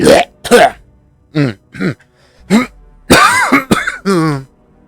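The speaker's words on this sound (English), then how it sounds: "didn't mean to cough in your ear" A person talks in short bursts, with a sharp cough or throat-clear near the start, close to the microphone.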